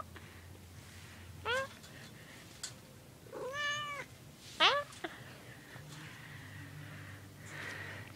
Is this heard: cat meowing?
yes